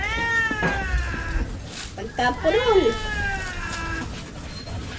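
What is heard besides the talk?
cat meowing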